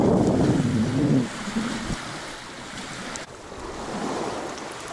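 Wind and surf along a rocky Great Lakes bay shore: steady broadband wind rush with low buffeting on the microphone, the wash of small waves continuous and fairly close, no voices.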